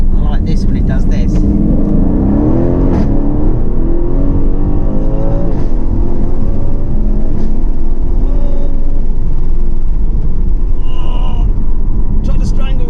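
A 2019 Aston Martin V8 Vantage engine rumbles loudly and steadily from inside the car while it is driven, with revs rising and falling. People talk over the engine throughout.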